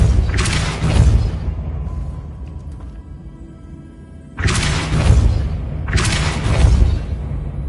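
A Depulso spell is cast repeatedly in the game Hogwarts Legacy, heard as three loud, deep whooshing booms with rumbling tails, separated by short quieter gaps of ambient game sound.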